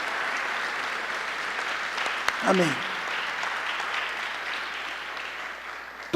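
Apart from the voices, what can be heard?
church congregation applauding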